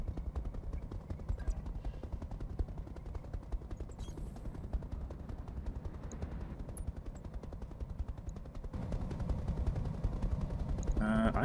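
Rapid, continuous weapon fire from mech combat in the Roguetech video game, a dense stream of shots with no pauses that swells louder toward the end.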